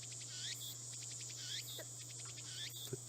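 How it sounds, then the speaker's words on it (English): Cicadas chirp steadily in a Steins Gate game scene, a dense shrill insect chorus with repeating pulsed calls over a constant low electronic hum, fairly loud and with no voices. "The only sound is the chirping of Cicadas."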